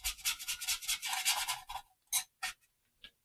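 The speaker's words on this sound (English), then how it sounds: "And scrape and scratch and wear." Rapid rubbing and scratching strokes scrape through a thick weathering wash on a winter-camouflage scale model, a dense burst of close scraping followed by three short separate scrapes.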